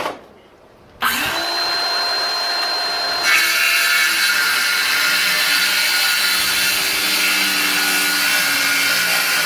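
Ryobi corded circular saw cutting wood for a tomato trellis: a sharp start after a second of near-silence, then a loud, sustained whining cut with a slight pitch change partway through.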